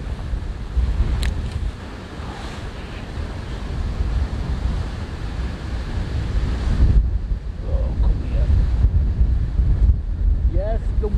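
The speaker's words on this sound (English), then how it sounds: "Wonders of fishing in the wind." Strong, steady wind buffets the microphone outdoors at a fishing spot for gudgeon, a continuous loud rumbling roar with gusty swells and faint water wash, no talk.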